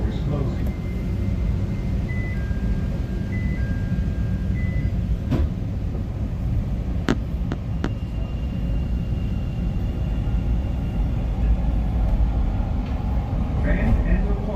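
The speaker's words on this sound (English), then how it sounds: "It's a very shaky ride here. Right, Blue Line train here." Chicago CTA Blue Line train riding between the Chicago Avenue station at Chicago and Milwaukee and Grand, a shaky ride with a steady loud rumble and rattling throughout, a few brief clicks and squeaks, with someone talking over it.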